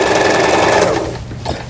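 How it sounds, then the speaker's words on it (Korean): A Lion 419s sewing machine stitching straight and reverse seams, a loud steady mechanical whirr with rapid needle chatter that slows and fades toward the end. "A의 직선 바느질, 후진 바느질."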